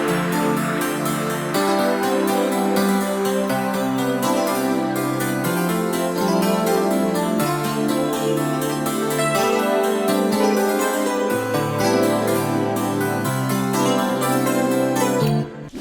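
A layered beat melody in the wintfye style, with sustained synth pads under a plucked, harp-like synth line, shifting chord by chord, dense and steady, close and without voices.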